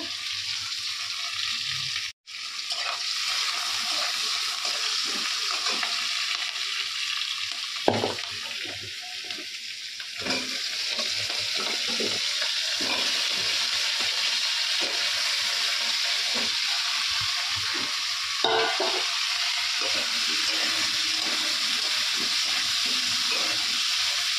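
Potatoes and mixed vegetables fry in a pan with a continuous close sizzle lasting throughout, broken by a few knocks and clatters of utensils and brief bursts of stirring.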